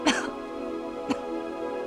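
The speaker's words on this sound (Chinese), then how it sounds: "你这咳嗽咋老不好呢？" A person coughs twice, a sharp cough followed about a second later by a shorter one, close and clear against quiet room tone.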